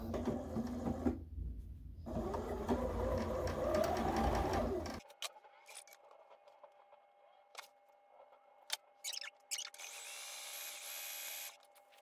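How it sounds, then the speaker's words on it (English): A sewing machine stitches the final seam on a homemade Easter pillow with a loud, steady mechanical whir for about five seconds. It then stops, leaving quiet clicks and brief handling noises. "We are going to take this over to our sewing machine and do our last round of sewing."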